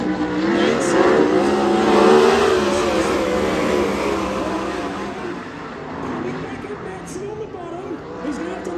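Race cars from a Northern Auto Racing Club event accelerate around an oval track, a steady loud engine roar that swells and fades as cars pass, under continuous commentary.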